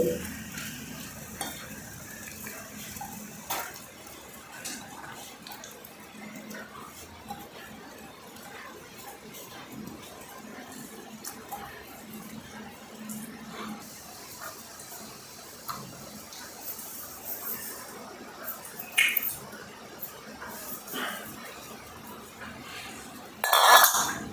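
Ingredients for date laddoos being stirred and mixed in a pan, soft scraping and occasional utensil clicks over a low hiss, with a louder clatter at the very end.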